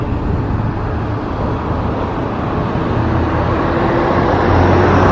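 Cars passing on a rural road in Georgia near a hitchhiking spot, a steady loud roadside rush of traffic with a vehicle swelling closer toward the end.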